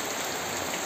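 Steady rain falling outside a home kitchen on a rainy day, a dense even patter that runs unbroken and alone through the whole short moment, with no voices over it.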